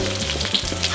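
Shallots and garlic frying in oil for tomato sambal, a brief close steady sizzle with light crackles.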